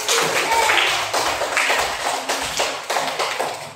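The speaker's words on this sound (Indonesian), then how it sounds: "Oke, tepuk tangan untuk kita semua." Children clapping hands together in a sixth-grade elementary school classroom during an Islamic studies lesson, a burst of quick, irregular claps that comes in uneven waves, fairly close and loud, with no talking over it.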